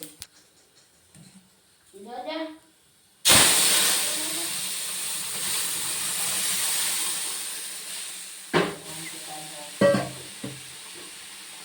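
Whole mustard seeds drop into hot mustard oil and burst into a sudden loud hissing sizzle that slowly fades, preceded by brief speech and followed by a couple of sharp clatters.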